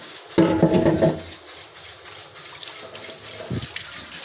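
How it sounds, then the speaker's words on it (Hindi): Tap water runs while a bowl is washed by hand, with a short gush of flowing water and some handling clatter, close and moderately loud. "हाथ के हाथ ये वाला बाउल भी धो के रख लें।"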